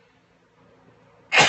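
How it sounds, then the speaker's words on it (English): A single loud, sudden sneeze bursts out at the very end after a stretch of near silence and faint background noise. "oh my gosh, I'm going to sneeze"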